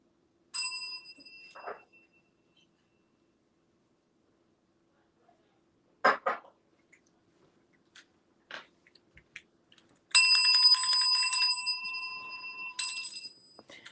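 A handheld bell rings during an online evening detox class: one bright ring near the start, a few scattered knocks, then a longer burst of ringing near the end, loud and close, with no talking.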